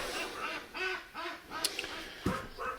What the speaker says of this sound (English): you can hear the ducks